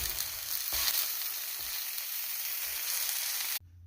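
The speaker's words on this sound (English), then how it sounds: "Place it in a pan. And listen to that crisp." A grilled cheese sandwich sizzles and crackles steadily in a hot pan, a loud close frying hiss that runs unbroken for several seconds and then cuts off abruptly.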